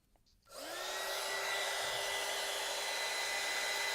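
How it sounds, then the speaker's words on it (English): A heat tool switches on after a brief quiet moment and runs as a steady, loud whirring blow with a high tonal whine, drying a handmade craft card with no talking. "Now I'm going to add a little bit of heat, kind of help with the drying process."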